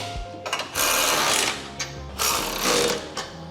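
Ratchet strap being cinched down on a homemade flatbed truck bed, heard as loud, sustained bursts of ratcheting and rasping with brief pauses between pulls, close and alone.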